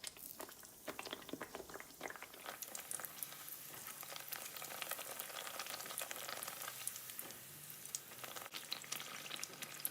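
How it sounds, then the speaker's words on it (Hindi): Besan-coated naan pakoras fry in oil with a faint, continuous crackling sizzle full of fine bubbling pops, steady and unbroken for the whole stretch with no talking. "7 से 8 मिनट में ये फ्राई हो गए हैं।"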